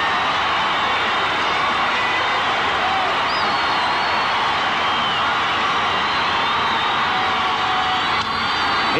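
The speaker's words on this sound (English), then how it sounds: "Crowd getting worked up." A large baseball stadium crowd at a 1981 playoff game between the Yankees and Athletics keeps up a loud, unbroken roar of cheering and shouting, a constant wash of sound from many voices.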